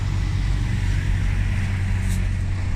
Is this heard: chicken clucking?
no